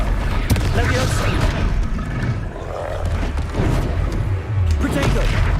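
Loud Confringo fire blasts in Hogwarts Legacy, dense booming impacts layered with battle mechanics and crackling effects, with shouted spell incantations and voices running throughout.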